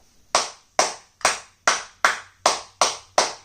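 Eight separate claps in a steady rhythm, each a sharp close strike fading quickly, follow a call to applaud a student who scored twenty in a class results announcement; no talk over them.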